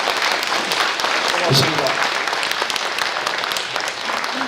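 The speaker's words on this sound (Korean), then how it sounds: "여러분 다시 한번 뜨거운 박수 부탁드립니다." Applause at a Democratic Party press conference in Mokpo, honoring a mayoral candidate, fills the room steadily from start to finish, with a voice briefly speaking over it.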